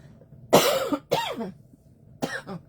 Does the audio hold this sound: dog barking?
no